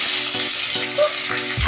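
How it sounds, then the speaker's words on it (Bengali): Fish pieces for a home-style doi katla curry slip into hot frying oil, setting off a steady, loud sizzle with faint stirring clatter and a low thump near the end. "আর দুটো মাছ দিয়ে দিলাম।"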